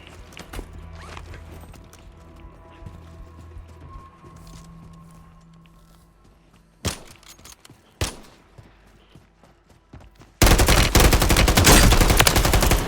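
Warzone gameplay gunfire: a few sharp isolated shots punctuate a quieter stretch, then a loud, sustained burst of rapid fire closes out the moment.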